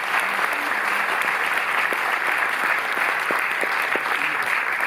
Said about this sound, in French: que le public puisse vous applaudir